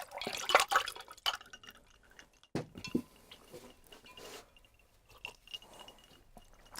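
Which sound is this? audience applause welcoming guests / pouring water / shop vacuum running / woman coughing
pouring water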